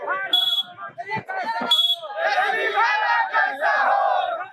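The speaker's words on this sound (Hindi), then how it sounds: "ये भीड़ RJD समर्थकों की है।" A crowd of RJD supporters gathered at a political rally in Pahadpur village, Raghopur, chanting and shouting together in loud rising bursts with shrill whistle-like tones, continuous and close.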